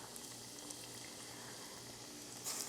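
Beef for a Mongolian beef noodle stir fry hits hot frying oil, giving a soft, steady crackling sizzle that stays faint throughout, with a brief slightly louder spatter near the end.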